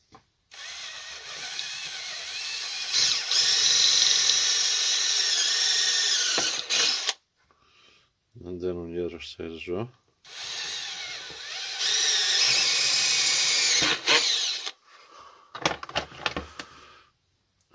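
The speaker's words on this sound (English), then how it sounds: "I'll just take a drill bit and I'll drill" A cordless drill whines in two long bursts drilling through a car battery's housing, with a short spoken remark and brief clicks between them, then a few quick trigger bursts at the end.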